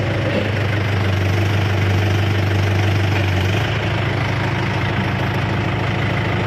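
Kubota M7508 tractor engine idling steadily and loudly at close range, a constant low diesel rumble with a slight shift in tone midway.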